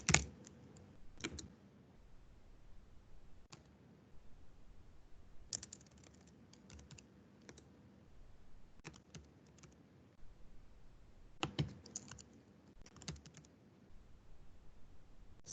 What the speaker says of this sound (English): all you need to do a chat is start to type the person's name.